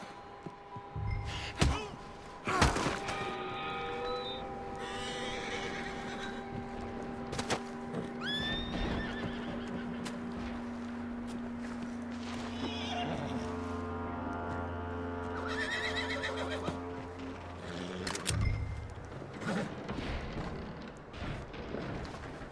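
In Red Dead Redemption 2, a horse whinnies loudly several times and hooves clip-clop over a long stretch, with thuds, a low droning tone and other game effects layered underneath.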